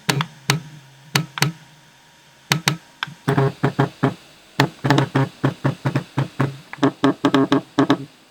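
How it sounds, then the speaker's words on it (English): Game controller rumble motors buzzing and rattling against a tabletop, heard as sharp, clicky, knock-like bursts, first a few isolated hits and then a rapid uneven run of pulses, loud and close with no voices. "This controller rumble is horrific."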